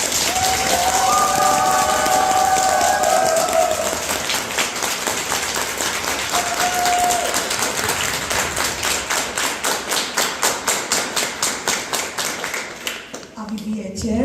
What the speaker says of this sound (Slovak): ten veľký potlesk, ktorý ešte raz zažijete, si naozaj zaslúžite